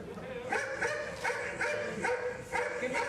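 A dog barks several times in a rhythmic series of sharp yaps, fairly close, with faint background voices.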